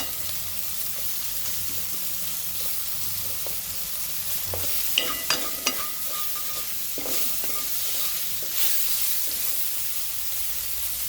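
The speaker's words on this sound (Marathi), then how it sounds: "चांगल्या लालसर रंगावर आपण कांदा भाजून घेऊया." Onion frying in a pan over a high gas flame, a continuous close sizzle with occasional scraping stirs and small clicks throughout.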